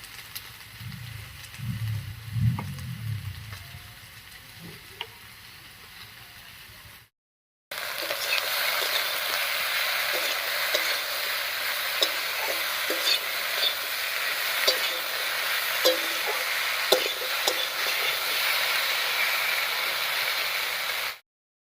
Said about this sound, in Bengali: আর এই অবস্থায় একটু ভাজা ভাজা মতো করে নেবো